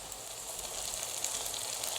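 Tomatoes and chillies frying in a pan of softened onions for karela and onion sabzi in a village kitchen, giving a steady, even sizzle throughout with no speech.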